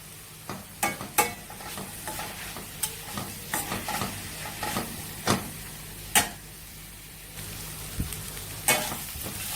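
Onions sauté in a pan for a Chettinad vegetable korma, with a low steady sizzle broken by sharp, irregular clacks of stirring against the pan, close by and with no voices.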